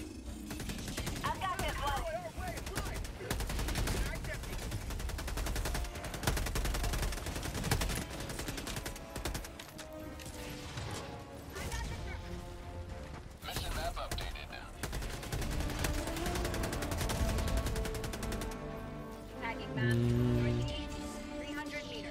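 Rapid gunfire and explosions fill a Helldivers 2 firefight, with dense automatic bursts and scattered single shots over a busy game soundscape, steady and loud throughout, under occasional talk.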